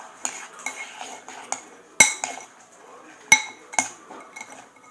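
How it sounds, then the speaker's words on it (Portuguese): A spoon stirs a palha italiana mixture in a bowl, giving soft scraping strokes punctuated by a few bright clinks against the dish, close and fairly quiet. "Agora nós pegamos uma colher e misturamos"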